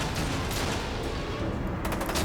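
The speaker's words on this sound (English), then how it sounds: "Not with the gunfire, though, no." Continuous, dense turret gunfire in the video game F.E.A.R. 2 roars loud and close with no break, a wall of rapid shots and booms filling the whole stretch.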